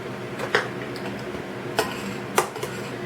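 Strawberry cake batter mixed by hand in a bowl, soft sloshing broken by a few sharp utensil clinks against the bowl's side, close and fairly quiet.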